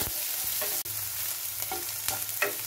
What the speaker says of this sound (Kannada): ಈಗ ಇದು ಹಸಿಮೆಣಸು ನೀರುಳ್ಳಿ ಮತ್ತು ಗೋಡಂಬಿ ಒಂದೆರಡು ನಿಮಿಷ ನಾನು ಫ್ರೈ ಮಾಡಿದ್ದೇನೆ